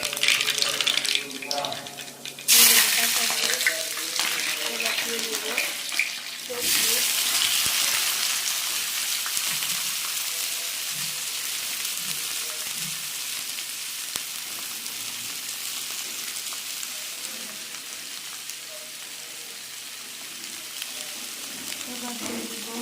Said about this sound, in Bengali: এবার এতে কালো জিরা দিয়ে দিব।